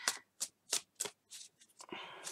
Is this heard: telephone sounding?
no